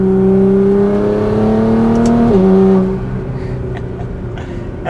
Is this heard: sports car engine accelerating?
yes